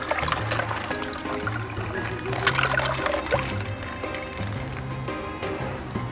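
Ice water poured into a bag of chicken brine, a steady splashing pour running continuously and fairly loud throughout, with a low tonal hum underneath.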